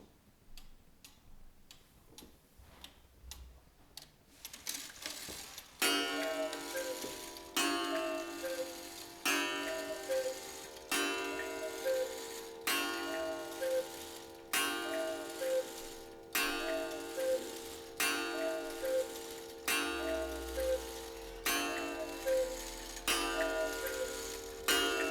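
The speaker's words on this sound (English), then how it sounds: "That's a fantastic Black Forest Cuckoo Clock" An antique carved Black Forest cuckoo clock ticks in a steady, even rhythm. Faint, quick ticks at first give way to louder, resonant beats that repeat alone and close up.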